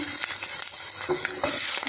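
Close, crackling sizzle of onions and green chillies frying in hot oil, with a few scraping stirs of a utensil against the pan.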